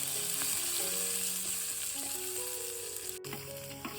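Curry leaves hiss in hot oil with garlic and green chilli for a dry fish dish, a continuous close sizzle with faint crackles and a sharp clack near the end, no speech.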